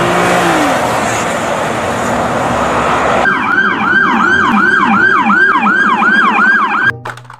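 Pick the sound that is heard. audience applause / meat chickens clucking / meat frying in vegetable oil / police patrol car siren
police patrol car siren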